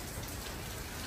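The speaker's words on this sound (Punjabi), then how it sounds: "ਚਲੋ ਬਾਰਿਸ਼ ਹੋ ਰਹੀ ਹੈ ਜੀ" Steady rain falling outdoors on a rainy morning at Kendwa beach, Zanzibar, a dense even hiss of drops on surfaces throughout, close and moderately loud, with no voices.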